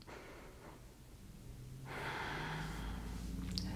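Slow, deep breathing through a gentle seated yoga twist, soft and close, with a long audible inhale swelling in the second half and no talk.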